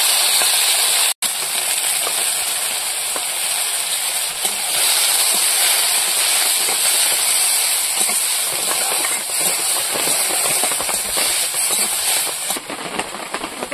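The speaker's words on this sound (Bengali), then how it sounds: "লবণ হলুদ দিয়ে চিংড়ি মাছটা ভেজে নেবো।" Prawns seasoned with salt and turmeric frying in hot oil, a steady dense sizzle and hiss running continuously from start to finish with no talk.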